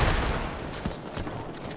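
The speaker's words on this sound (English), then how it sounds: "y'all gotta watch that crossfire shit." A short, dense burst of gunfire crossfire in the GTA roleplay video game, loud and continuous with no break.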